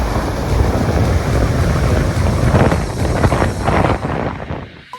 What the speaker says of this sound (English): the water is extremely rough today